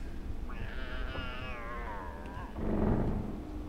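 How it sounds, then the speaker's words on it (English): A cat in the Harry Potter video game gives one long, wavering meow that rises and falls over about two seconds, fairly close and clear over steady background game noise. "I hate that cat"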